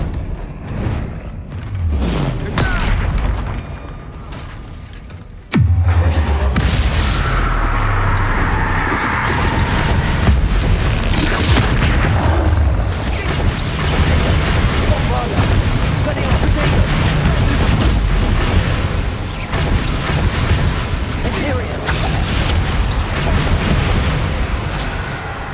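Spell explosions from Bombarda in Hogwarts Legacy on PS5 erupt as a loud, dense barrage of booms and blasts that keeps going with barely a pause, beginning with one sharp impact and mixed in with continuous game noise.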